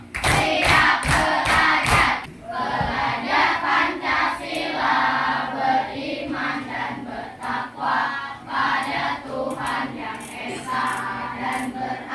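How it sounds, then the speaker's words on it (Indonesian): Students in a classroom clap in rhythmic counted groups, with quick bursts of sharp claps at the start followed by patterned clapping mixed with children's voices chanting along. "Tepuk 1, tepuk 2, tepuk 3, tepuk 4, tepuk"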